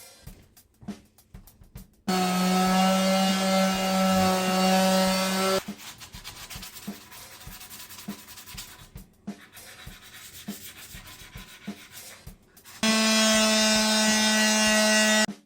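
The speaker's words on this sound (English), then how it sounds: "I'm going to sand this now. I'm going to use a 400 grit and then fine sand it up a little bit" Hand sanding the wooden body of a DIY Rickenbacker-style bass guitar kit with 400 grit sandpaper gives loud, close, raspy rubbing strokes in long bursts, separated by quieter scraping and handling between them.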